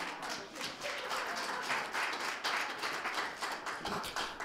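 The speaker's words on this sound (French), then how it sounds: "On l'applaudit, merci beaucoup" An audience at an on-stage talk claps in a quiet, dense patter of many hands, sustained at a fairly even level throughout with no speech over it.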